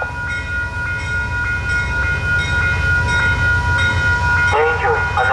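A train rumbles steadily past on the railway, with a loud low roar throughout and faint repeated rail clicks; a brief squeal of metal near the end.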